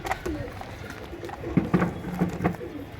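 Racer giribaz and fancy pigeons coo softly in low, repeated murmuring calls, close by and fairly faint over a busy background.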